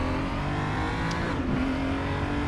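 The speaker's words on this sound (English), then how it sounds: "A online race in the BMW M235i on the Nürburgring." BMW M235i race car in the RaceRoom sim on the Nürburgring short layout, engine holding a steady loud drone with a brief rev change midway, continuous and close.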